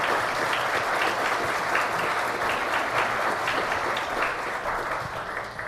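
An audience at a beer-production event at Unicesumar applauds to welcome guest Juliano Mendes; the clapping is steady and dense, fills the room for several seconds and tapers slightly at the end.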